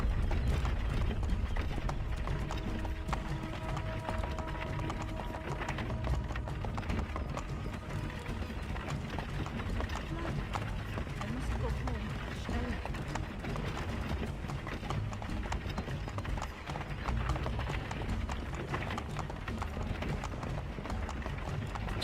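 A horse gallops in Assassin's Creed III, rapid rhythmic hoofbeats drumming steadily throughout, close and continuous beneath faint game ambience and a little background speech.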